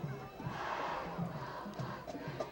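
Crowd at a 1998 Portage Central Mustangs high school football game against Portage Northern yells and roars in a sustained cheer, faint and distant, with some voices.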